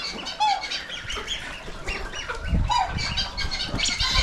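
Ducks squawk and call in short bursts over rustling and splashing, several birds close by, no talking.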